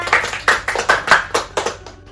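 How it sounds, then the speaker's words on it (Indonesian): A small group of students claps hands in a classroom, about ten sharp rhythmic claps in quick succession, close and distinct with no talk over them. "Tepuk tangan untuk Dena."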